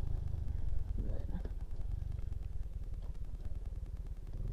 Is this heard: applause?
no